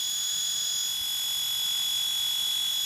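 A high, steady electronic whine, an amplified tape whirr played through a speaker, sounds like a continuous alarm tone, holding at an even level for the whole stretch with no talking.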